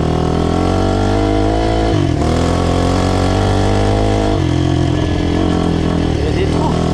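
A motorcycle engine accelerates up a steep climb on rough, holed ground, with the rear wheel zigzagging. The engine drones loud and close, with a dip and shift in pitch midway and another change later.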